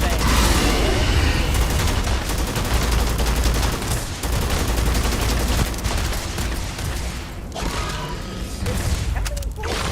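Gunfire in the video game Starfield, a dense loud barrage of rapid shots and bursts that runs almost without pause, with booming impacts and some clattering mechanical sounds mixed in.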